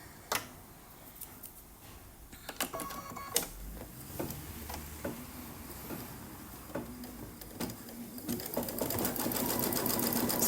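An embroidery machine runs a tack-down line through fabric in the hoop, a steady mechanical stitching rhythm with scattered clicks and knocks, close and fairly quiet, building slightly toward the end.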